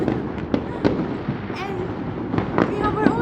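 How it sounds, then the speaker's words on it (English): Fireworks bursting over Melbourne in a long display, watched from a house at a distance; repeated sharp cracks and booms arrive at irregular intervals over a continuous crackling wash, with people talking now and then. "I've never seen this amount of fireworks in my life."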